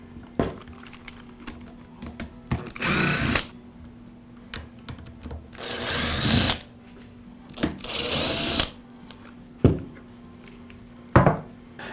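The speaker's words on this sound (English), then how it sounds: "Now we'll remove the 4 screws that secure the transmission to the housing." A cordless screwdriver whirs in several short bursts while four screws come out of a Milwaukee cordless drill's transmission housing, each run separated by light clicks and handling taps.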